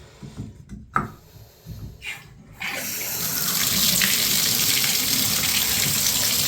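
After some clunks and handling noises from a Price Pfister three-handle shower valve, water bursts out with both hot and cold on and settles into a loud, steady rushing stream.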